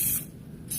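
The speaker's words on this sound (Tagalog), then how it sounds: "Spray natin dito." Butter-flavor cooking spray hisses from an aerosol can onto a pan for pancakes in one short, close burst that fades slightly in the middle and flares again at the end.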